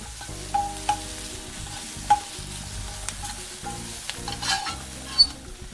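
Onions pan roast and char in a pan with a low, steady sizzle and occasional scrapes and taps of a stirring utensil, close up with no talking.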